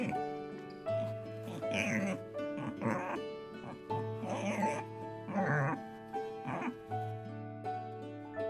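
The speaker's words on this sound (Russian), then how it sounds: "Пекари." A peccary gives a series of short, rough pig-like grunts in rhythmic bursts, heard over a steady musical background.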